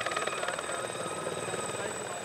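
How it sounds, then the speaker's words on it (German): Helicopter donated to Kruger National Park for anti-poaching dog teams, its rotor thumping in a fast steady chop with a whining turbine tone, loud and close throughout. "Mit dem Hubschrauber."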